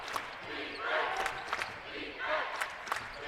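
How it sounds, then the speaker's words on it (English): Crowd at a college men's basketball game between Whitworth and Johns Hopkins, roaring in swelling waves of cheering with sneaker squeaks and ball bounces, heard under a commentator's voice. "The crowd has definitely gotten loud, and Matt Logie wants them louder."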